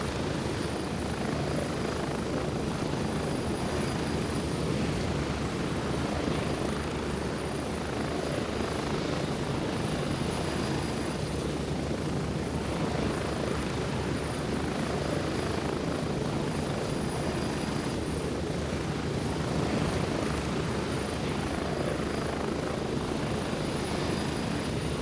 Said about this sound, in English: Helicopter is loud